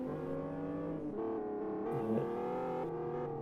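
Race car engines in the Live for Speed racing game during a 400 km endurance race at Westhill. A loud, steady engine drone with shifting harmonic tones runs continuously, and one car's note fades off into the distance.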